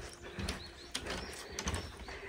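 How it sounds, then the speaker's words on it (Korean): Birds call and coo outdoors in fresh mountain air by a parked car after a hike, a few short calls rising over a steady low background hum. "새소리도 같이 들리고 그러니까"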